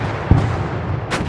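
Air support bombing run sound effect in a North Africa Operation Compass wargame: a sharp, close explosive thump followed by a rumbling low tail and a second hissing burst, loud, with no talk.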